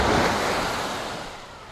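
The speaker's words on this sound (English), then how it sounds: "I might get done by the waves" Ocean waves washing onto a sandy beach in Bali, a steady broadband roar of surf up close that slowly eases off, with some wind noise and no talking.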